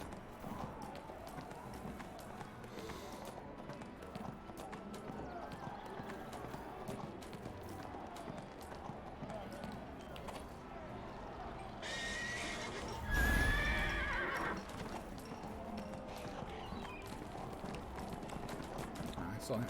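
A horse in the Neverwinter game clops along and lets out whinnies, with a louder, brighter neigh bursting out near the end over the steady hoofbeats while someone talks throughout.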